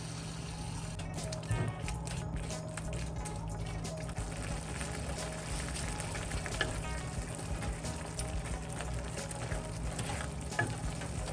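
Rhubarb chili paste is stir-fried in a pan, producing a continuous close sizzle laced with repeated scraping and stirring strokes and occasional sharp clicks.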